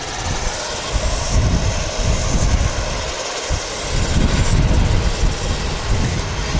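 Aircraft taxiing at Wellington Airport give a steady loud engine roar with deep rumbling throughout, heard alone without speech.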